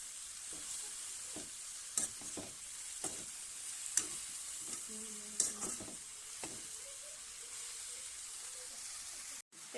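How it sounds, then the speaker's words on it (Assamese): Taro leaves frying in a pan for an Assamese kosu haak dish, a steady soft sizzle under scattered scraping taps from stirring, faint voice now and then. "এইখিনি আকৌ এবাৰ ভালদৰে লৰাই দিছোঁ।"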